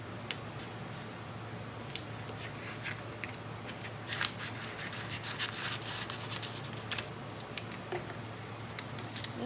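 Scissors snip repeatedly through material for a homemade pumpkin fall sign, a steady run of close, crisp cuts with light rustling and handling noise, no talking.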